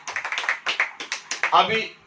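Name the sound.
congregation clapping in church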